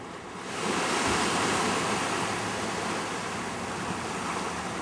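Pacific Ocean waves crash against the rocky coast at Lovers Point in Pacific Grove. The roaring surf swells in and then holds as a loud, continuous wash of water.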